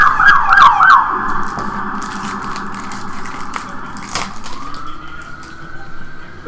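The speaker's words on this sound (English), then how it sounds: "More sirens for Paula Creamer." A siren sound effect played on a television show, a wailing tone that rises and falls, loud at first and then continuing more steadily as a quieter underlying hum runs beneath it.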